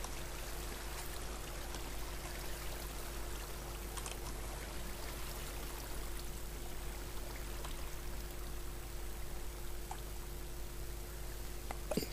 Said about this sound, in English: Let's climb this water monolith.